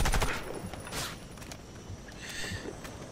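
Gunfire from a sniper rifle in the online shooter Warface during a convoy escort mission, with sharp shot bursts amid ongoing battle noise and clatter, fairly loud and without talk.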